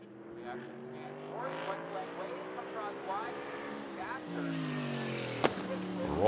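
Race car circling the Bullring short track at Las Vegas Motor Speedway, its engine note rising and falling steadily through the lap. A commentator talks over it throughout, with a sharp click near the end.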